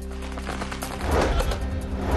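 Firecrackers bursting in rapid, crackling volleys at a street celebration by political party workers in Nagpur after an election win, dense and continuous with no talking.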